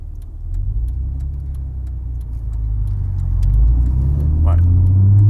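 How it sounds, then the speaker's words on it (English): An old Bentley Continental rolls past with a low, deep engine rumble that swells gradually as it approaches, while people talk over it. "Bentley coming up. The old Continental."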